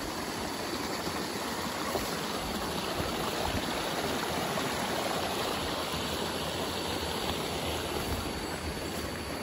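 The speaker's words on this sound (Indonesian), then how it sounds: "Gemericik air." Babbling mountain stream water on a hillside during a clove harvest trip, a steady broadband rush and trickle that runs unbroken and fairly close throughout, with no talk.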